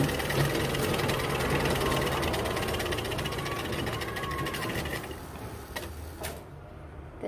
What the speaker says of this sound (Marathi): आपण आता कपड्याला शिलाई मारून पाहू व्यवस्थित आपली दोरा वगैरे व्यवस्थित लागलाय की नाही बघायला.